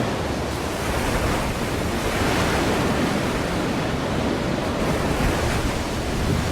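Ocean waves in the video game Call of Cthulhu: Dark Corners of the Earth, a loud, continuous wash of surf that roars steadily without a break and with no voices.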